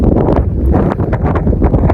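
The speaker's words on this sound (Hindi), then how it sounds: "बहुत तेज हवाएं चल रही है, बहुत तेज।" Strong cold wind at Langza monastery in Spiti Valley buffeting the microphone, a loud continuous roar with gusting rumble throughout, no speech heard.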